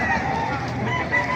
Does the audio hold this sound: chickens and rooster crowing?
yes